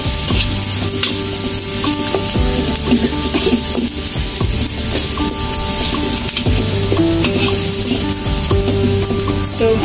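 Shallots and garlic sauté in a pan for a Filipino bihon noodle dish, giving a steady, close sizzle with repeated stirring scrapes throughout, layered over sustained background tones.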